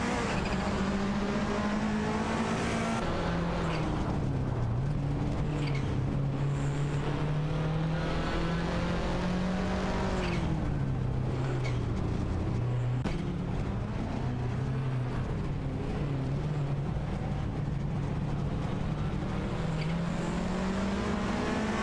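Two Porsche race cars in a racing video game, engines droning steadily and close with shifting revs as they accelerate and ease through corners, continuous and loud with no talk.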